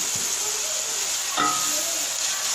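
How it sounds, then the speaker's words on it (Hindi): Chicken karahi pieces frying with onions in a pan give a steady close sizzle and hiss throughout, with a brief stirring clatter midway. "जब थोड़ा सा चिकन ब्राउन कर लेंगे, भून लेंगे इसे प्याज में"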